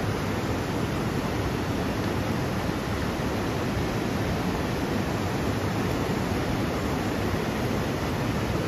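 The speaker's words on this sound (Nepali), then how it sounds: "यो चाहिँ तावा खोला है" Steady broadband rush of the Tawa Khola river flowing in the hills of Surumkhim, Taplejung, a continuous full roar with no pauses and no voices.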